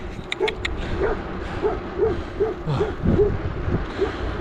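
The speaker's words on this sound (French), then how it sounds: "C'est bien, les chiens, c'est bien." Dogs out on a gravel ride give a run of short, high yips and barks at a steady pace, close by, over wind and road noise.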